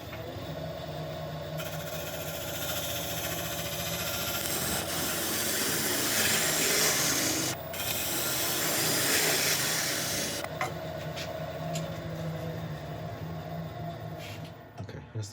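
A woodturning lathe cutting a shoulder into a wooden vase gives a steady hissing, scraping whir of the tool on spinning wood, continuous and fairly close, with brief breaks in the cut.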